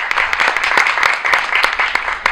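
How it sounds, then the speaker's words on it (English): Audience applause at an artist talk at The Muny theatre, steady crowd clapping filling the whole moment, fairly loud and close, with no one speaking. "Let's give him a big round of applause"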